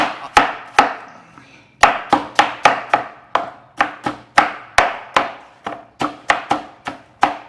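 Knife chopping an onion on a board, a string of sharp, close thuds in a steady rhythm with a short pause near the start, loud and clear with no talking.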